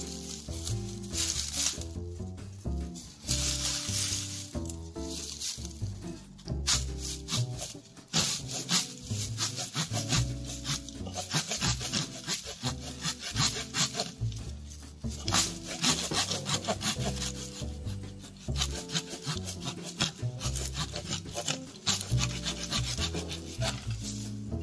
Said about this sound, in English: I use a Fisker folding pruning saw. I find this works very well for bamboo.